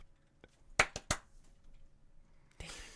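Hand claps at a casual podcast recording: a faint tap, then three crisp close claps in a quick cluster, a quiet pause and a louder burst of noise at the end, no speech.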